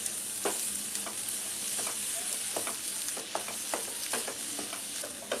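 Egg bhurji fries with a steady sizzle in a pan while a spatula scrapes and stirs it in repeated short strokes, close and alone with no talk.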